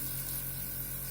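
An airbrush sprays makeup in a continuous, even hiss of blowing air, close and steady for the whole moment with no talk over it.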